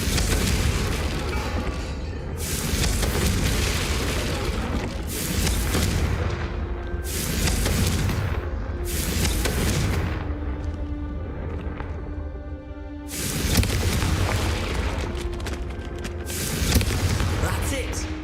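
Repeated Confringo fire-blast spells in a video game, a series of loud booming bursts spaced a couple of seconds apart, close and heavy, with game sounds between them.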